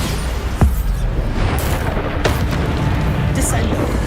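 Bombarda spell explosions in Hogwarts Legacy: a sharp blast followed by rumbling booms and crackling bursts over continuous combat noise, with a voice shouting over them.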